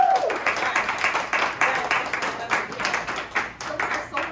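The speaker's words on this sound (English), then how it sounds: "that deserves a round of applause" A crowd applauds at a ribbon-cutting press conference for a new Chase bank branch in Vermont. The clapping is dense, steady and rhythmic, lasting several seconds, with a brief voice at the very start.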